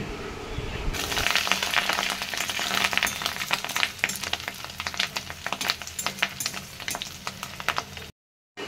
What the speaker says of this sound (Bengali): এটা হলো রুই মাছের ডিম, সেটা দিয়েও বড়া বানিয়ে নিলাম